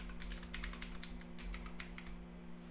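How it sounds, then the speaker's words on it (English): Rapid clicky keystrokes come from a computer keyboard while jQuery code is typed, fairly faint and steady over a low electrical hum, with no talking. "I'm gonna hit enter again."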